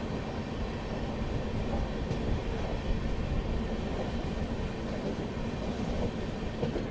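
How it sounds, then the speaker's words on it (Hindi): The Bhagat Ki Kothi Express, heard from a First AC coach, rolls into Sawai Madhopur station with a steady rumble and soft rail clatter, without any talk. "सवाई माधोपुर स्टेशन के प्लेटफॉर्म नंबर 1 पे अपना अराइवल हो रहा है"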